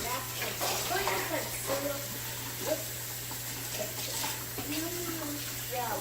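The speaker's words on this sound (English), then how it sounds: "Let me drain the water and rinse them off." Water runs steadily into a sink with splashing as raw chicken is rinsed, while a person talks over the flow.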